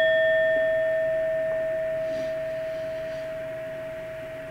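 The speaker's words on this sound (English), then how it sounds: "When you hear the chime, let's take a deep breath in and raise our vibration." A meditation chime rings once with a clear, sustained tone that slowly fades over several seconds against a quiet room.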